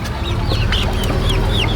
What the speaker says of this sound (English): These are local chicks